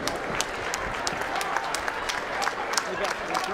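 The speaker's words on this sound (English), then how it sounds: "a round of applause for both of the fighters in this ring" Crowd applause fills a championship boxing ring after a ten-round bout between two fighters, steady clapping with scattered sharper claps, fairly loud and close throughout.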